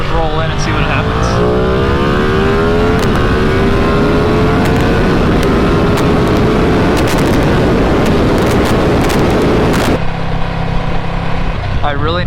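A motorcycle pulls hard in second gear, its engine note climbing steadily and loudly for about ten seconds before cutting off sharply, with wind roar throughout.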